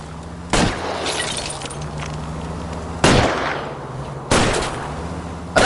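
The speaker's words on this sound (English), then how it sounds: "I'll try to shoot out his tires." Gunshots fired at car tires in L.A. Noire ring out as four sharp, loud bangs spaced a second or more apart over a continuous engine drone.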